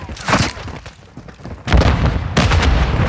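In Call of Duty: Modern Warfare 3 (2023), a grenade blast and gunfire land as heavy booms and bursts of shots: one loud burst, a short lull, then a longer, louder rumbling barrage close by.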